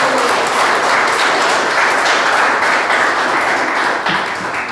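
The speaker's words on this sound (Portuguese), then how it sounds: "Dá uma salva de palmas para Jesus aí." A church congregation applauds in praise of Jesus during a Portuguese-language worship service, a dense, steady wash of clapping that fills the whole moment with no voices on top.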